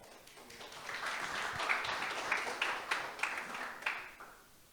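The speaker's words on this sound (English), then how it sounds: "Applause." An audience applauds at a startup community forum as a new university team is welcomed, a moderate, fairly distant wash of clapping that builds, holds steady for several seconds, then begins to fade.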